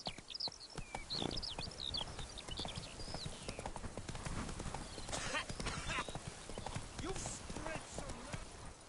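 Roach, the horse in The Witcher 3: Blood and Wine, clip-clops along at a brisk steady gait, hooves close and clear, with a whinny and a rider's spoken commands over the hoofbeats.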